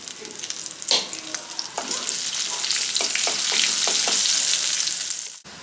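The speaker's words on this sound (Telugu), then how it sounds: "ఒక 3 ఎండుమిర్చి వేసుకుంటున్నాను." Dried red chillies and crushed garlic crackle in hot oil for a tempering, a close, bright sizzle that swells after they go in, with a few stirring knocks and a sharp clack near the end.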